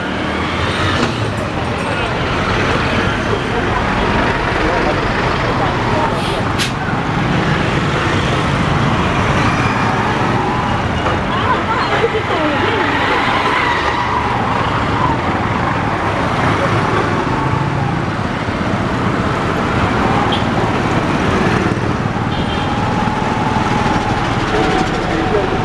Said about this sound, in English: all this traffic jam is caused by road construction ongoing ahead